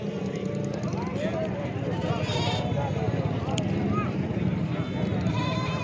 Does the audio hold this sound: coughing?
no